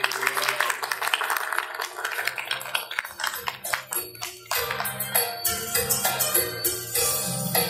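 An audience at a Thai verse-recitation performance honouring Sathirakoses claps steadily in a dense patter of many hands. The applause continues throughout and rises slightly toward the end.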